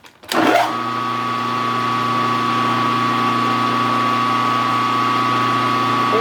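A drilling machine's motor whirs up sharply and then settles into a steady, droning hum that runs on without change, close by and fairly loud, while drilling a crank disk for a small steam engine build.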